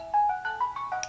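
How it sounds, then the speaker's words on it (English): A cell phone alarm ringtone goes off during a convention panel, a bright rising run of electronic tones played in quick steps, loud and clear with no talking over it. "That's my phone telling me to use my inhaler."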